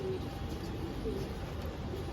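Soft, low cooing from a sick pigeon repeats under a steady wash of background noise, fairly faint and not far off.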